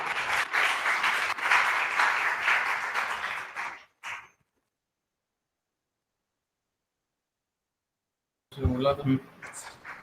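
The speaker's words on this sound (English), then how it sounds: "give a huge round of applause for his valuable knowledge" Audience applause at a national training program on materiovigilance, a steady burst of clapping for nearly four seconds that cuts off, followed by silence and then a brief voice.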